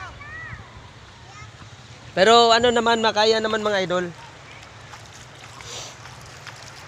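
A strong river current roars steadily throughout, with someone talking loudly over it for a couple of seconds in the middle.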